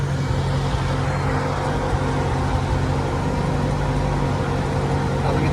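An Amphicar amphibious car cruising through a lake at Disney Springs, its engine giving a steady, close droning hum with no breaks or voices.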